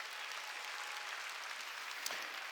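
Church congregation applauding during a Korean sermon, a steady wash of clapping from many hands throughout, fairly faint and distant, with no voices over it.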